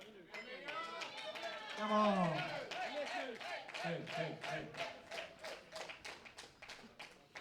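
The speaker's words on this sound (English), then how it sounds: "A lot of Swedish support in the crowd." A powerlifting crowd at a European junior championship cheers on a Swedish lifter, voices swelling into shouts, then settling into steady rhythmic clapping that keeps going to the end, with a few short calls from spectators.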